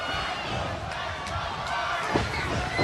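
Wrestling arena crowd in Nashville at a Lockdown pay-per-view event, a steady roar of many voices filling the hall with a few louder thumps, heard beneath commentators talking.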